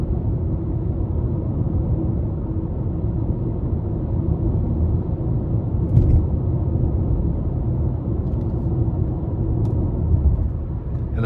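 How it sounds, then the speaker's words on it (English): Inside a 2024 Nissan Sentra SV with a 149 hp 2.0-litre four-cylinder and CVT while driving, a steady low engine and road rumble that stays even and fairly quiet throughout, with a few faint ticks. "even with the CVT, I just like the sounds that the vehicle makes"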